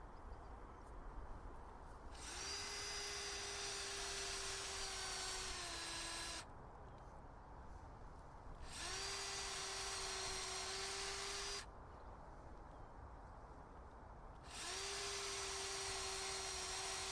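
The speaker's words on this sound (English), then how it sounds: "So now it's a case of drilling through the posts," Power drill boring holes through wooden garden posts outdoors while a raspberry bed is built, three sustained whining bursts of a few seconds each with quiet gaps between, fairly near and steady.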